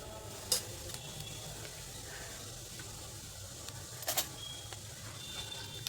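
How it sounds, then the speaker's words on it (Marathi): Cumin seeds crackling in hot oil in a kadhai, a faint, steady sizzle with a few sharper pops standing out, heard alone without talk. "जिरं छान तडतडलं आहे"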